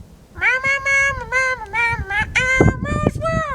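A human voice imitates a cat, giving a run of close, drawn-out meows that slide into a rougher howl near the end, with a few thumps underneath.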